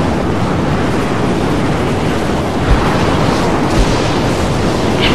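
Howling storm wind in the video game Mad Max, a dense, steady roar of gusting noise that fills the whole stretch with a couple of brief thumps, no voices.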